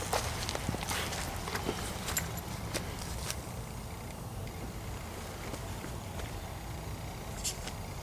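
Footsteps crunch through dry leaves outdoors near a bridge, a series of soft irregular rustling steps over a steady low background rumble, fairly close and without talk.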